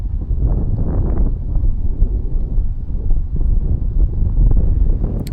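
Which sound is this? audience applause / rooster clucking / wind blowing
wind blowing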